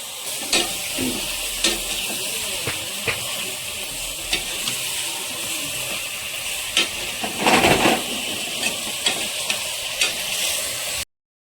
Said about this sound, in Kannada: ಇವಾಗ ಈ ಥರ ಫ್ರೈ ಮಾಡ್ಕೊಳ್ಳಿ